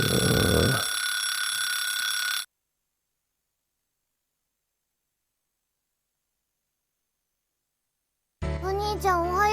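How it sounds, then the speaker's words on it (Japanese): An alarm clock rings in a PS4 visual novel game, a loud steady electronic tone for about two seconds that cuts off into silence, followed by a voice speaking. "お兄ちゃんうるさい。目覚まし止めて。"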